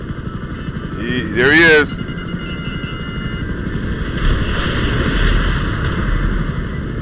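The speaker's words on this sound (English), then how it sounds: "This helicopter does not fly like a airplane." A helicopter in GTA 5 hums steadily under the action, its engine drone holding throughout while a person speaks briefly near the start and other game sounds swell later.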